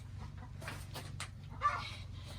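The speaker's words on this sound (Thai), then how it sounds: "ส้มก็ได้อุ้มแม่ไก่ออกจากตรงนี้ไปนะคะ" Backyard hens cluck softly in a few short, scattered bursts, with one sharper squawk near the end, over a low steady background hum.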